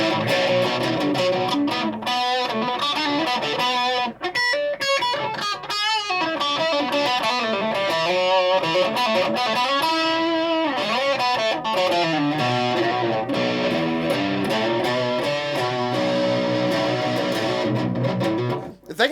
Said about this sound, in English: Maybe 3 distortion pedals is a bit much.